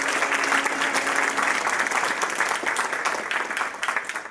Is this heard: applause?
yes